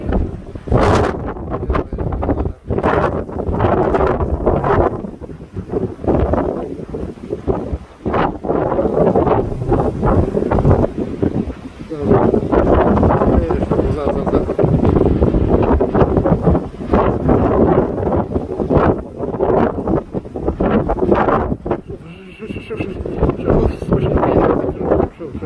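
Strong coastal wind buffets the microphone at Al Hoceima, Morocco, a loud, steady roar with gusty surges throughout, while someone talks over it.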